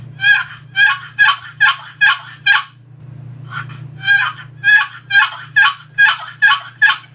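A hunter's turkey call imitates a gobbler's drawn-out yelps, a loud close run of about a dozen evenly spaced raspy notes with one short pause partway, over a low steady hum.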